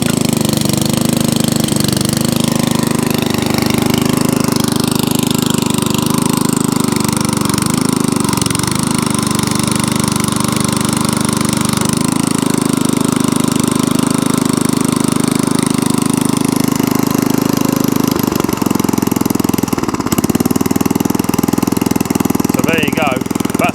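An MDT T380 tiller's small engine runs steadily and loudly nearby, its rough chugging drone continuous with slight shifts in pitch and no speech.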